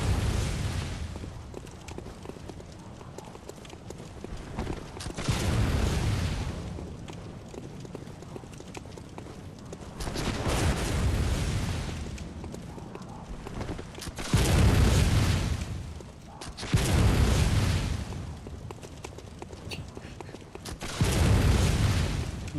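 Gunfire from enemies in the video game Bloodborne comes in recurring loud, booming bursts every few seconds, with quieter rumbling stretches between volleys and no talking.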